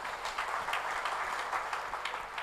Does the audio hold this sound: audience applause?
yes